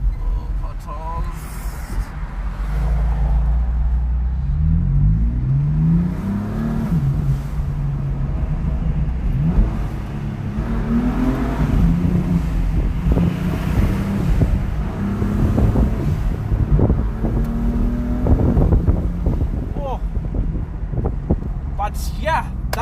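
A 2017 BMW M4 Competition accelerates from inside the cabin, its engine rising and falling through gears under wind and road noise, with someone talking over it.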